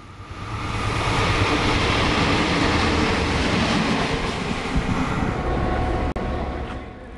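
Heritage diesel rail cars run by the Rail Motor Society pass at Carlton, New South Wales, heading back to Sydney: a loud, sustained rumble and rattle of wheels on track that swells quickly and holds steady, with no voices.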